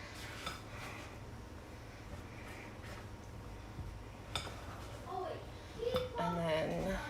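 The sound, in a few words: mixing pancake batter with eggs in a bowl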